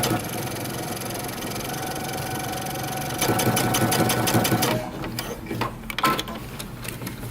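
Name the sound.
sewing machine top stitching jeans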